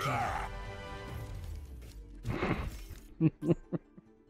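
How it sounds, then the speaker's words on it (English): Nano-boosted shatter ability in a video game, a crashing impact burst around the middle followed by several sharp smashing hits near the end, under excited talk. "Every Get time they pushed in, it was a nano shatter."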